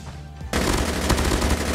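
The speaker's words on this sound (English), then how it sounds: "they're shooting at me too" Sudden burst of sustained automatic gunfire in the COD Mobile shooter game, loud and dense, rapid shots running together after a brief quieter lead-in.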